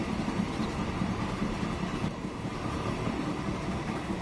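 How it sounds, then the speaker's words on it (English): An old train in the video game Transport Fever 2 rolls along with a steady dense rumble and rattle, constant and fairly loud without breaks. "It's an old train."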